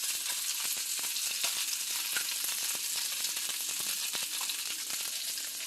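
Butter and a little sunflower oil fry in a pan with a steady, bright crackling sizzle and scattered pops, continuous and unbroken with no talk.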